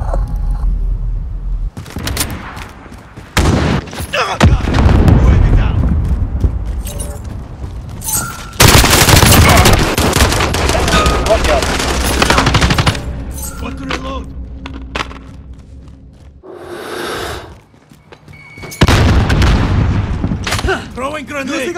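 Gunfire in Call of Duty: Modern Warfare multiplayer on PS5, loud bursts of automatic fire and booming explosions in irregular clusters with short gaps, mixed with game voices shouting callouts.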